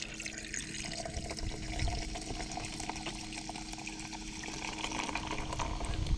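An energy drink pours into a cup that still holds leftover coffee on a fishing trip, giving a continuous splashing trickle over outdoor background noise.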